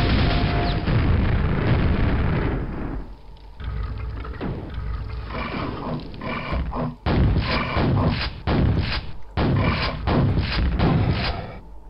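Grenade explosions in the game Quake, a run of heavy booms with rumbling low-end blasts and choppy bursts of debris noise, loud and continuous across the stretch with several distinct hits near the end.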